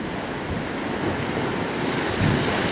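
Ocean waves break continuously at Sleaford beach near Port Lincoln on an overcast afternoon, a dense, steady roar of surf mixed with wind buffeting the microphone, with slight swells in loudness toward the end.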